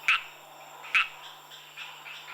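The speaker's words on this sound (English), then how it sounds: "the mating calls of some of Madagascar's 300 frog species fill the jungle" Frogs calling at night in a Madagascar jungle: two sharp, loud chirping calls about a second apart, followed by softer, more distant calls, over a faint steady insect hum.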